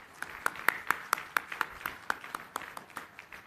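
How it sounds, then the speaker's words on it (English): Applause at a university degree convocation: fairly faint, evenly spaced claps in a quick, regular rhythm, sounding like only a few hands rather than a full crowd. "Can we have a big round of applause, please?"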